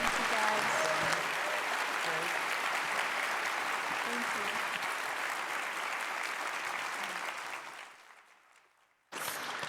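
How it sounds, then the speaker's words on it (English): An audience at a summer conference lobby day training session gives sustained loud applause that fades out near the end, followed by a brief burst of renewed clapping. "let's have one more round of applause for Xan and Ben and Jenn."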